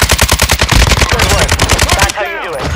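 RPK machine gun in a video game firing rapid sustained bursts, dense regular shots for about two seconds, loud and close, then a brief ringing tail after the burst stops.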